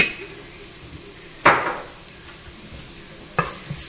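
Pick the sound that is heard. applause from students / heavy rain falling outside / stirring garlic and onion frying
stirring garlic and onion frying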